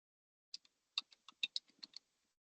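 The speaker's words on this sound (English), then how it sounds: "I'm going to type in a PO number." A PO number typed on a computer keyboard, about a dozen crisp, close keystrokes in an uneven rhythm over roughly a second and a half, alone in a quiet room.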